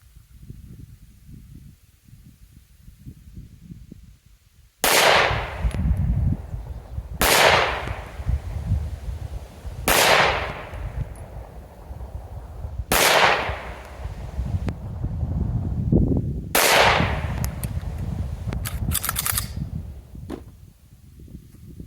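Five loud, sharp shots from a Beretta APX A1 9mm pistol firing hyper ammo, evenly spaced a few seconds apart with ringing decay after each report.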